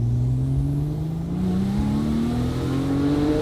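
A Porsche 911 Turbo accelerating hard in second gear, its engine note climbing steadily in pitch with a loud, continuous whooshing roar heard from inside the car.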